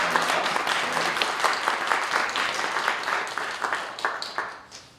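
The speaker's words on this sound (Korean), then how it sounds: "다시 한번 큰 박수로 격려해 주시기 바랍니다." An audience at a seminary graduation ceremony in a church applauds a graduate, with dense, lively clapping throughout that thins out and fades over the last second.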